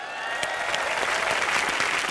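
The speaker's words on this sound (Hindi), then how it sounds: "अकबर, अनारकली और सलीम के लिए जोरदार तालियां हो जाए।" Loud, dense applause from a comedy show studio audience, sustained clapping for about two seconds with no speech over it.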